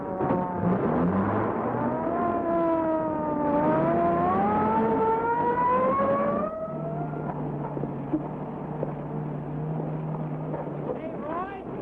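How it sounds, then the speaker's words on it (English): A patrol car engine drones steadily while driving, its pitch rising and falling as it shifts through gears, loud and close with wind rush, then settles to a lower, steadier hum. "Sink your spurs into that patrol car of yours."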